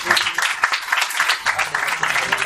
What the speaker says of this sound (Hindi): इसके लिए ताली बजा।